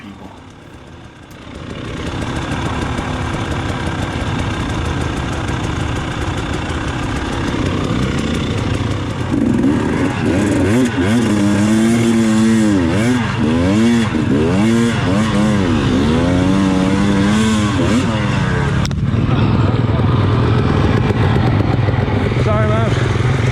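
An enduro motorcycle engine labours through a bottleneck during an extreme enduro race, with a loud, continuous drone and repeated revving swells. A voice speaks over the engine.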